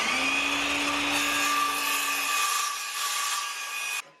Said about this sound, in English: I'm going to use a combination of circular saw and jigsaw to cut this out.